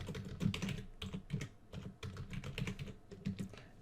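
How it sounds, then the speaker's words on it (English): Computer keyboard typed on in a quick, uneven burst of clicking keystrokes, close and fairly quiet, with no speech over it. "I'm going to type in contact, product,"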